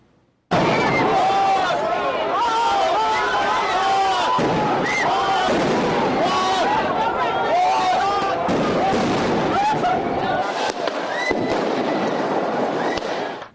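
Police firing tear gas canisters and non-lethal projectiles at Occupy Oakland protesters in a street, a loud, dense barrage of repeated bangs and pops, with crowd noise and shouting under the continuous, chaotic din.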